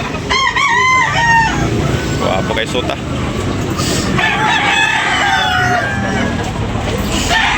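A gamecock crows repeatedly amid a noisy cockfighting pit crowd, with someone talking loudly over the calls throughout.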